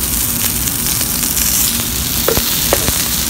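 A steak searing in a hot pan gives a loud, continuous sizzle and crackle, close and steady, with a few brief clicks near the end and no voices.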